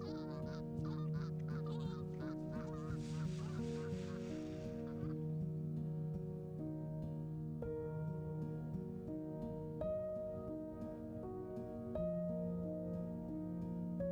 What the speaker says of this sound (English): Both sandhill cranes and snow geese spend winter at Bosque del Apache, roosting on water and feeding in fields.